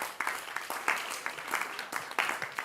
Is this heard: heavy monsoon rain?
no